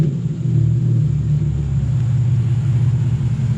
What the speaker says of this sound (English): I knew obviously a full straight pipe is going to be really loud, but I was not expecting this.